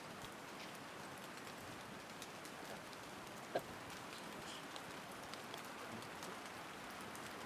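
Steady rain falls through an autumn forest with birch trees, a dense even hiss of drops on leaves and ground, with one brief sharper tap midway and no voices.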